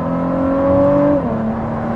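A Ford GT fitted with a Quicksilver Inconel exhaust gives a loud, steady engine drone held at high revs, then the pitch drops sharply as the throttle closes, with no talk over it.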